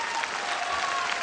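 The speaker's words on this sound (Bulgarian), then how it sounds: "Аплодисменти!" Studio audience applause at a televised dance competition show, a dense, steady wash of clapping filling the whole short stretch at even loudness.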